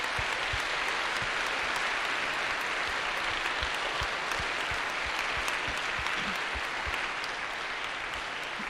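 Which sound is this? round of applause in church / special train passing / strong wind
round of applause in church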